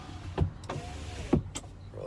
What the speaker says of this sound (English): roll those windows up. It's kind of noisy.